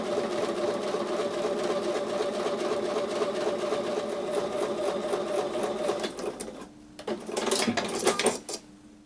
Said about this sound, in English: So I'm going to take these to the sewing machine and sew a 1/4 inch away from that drawn line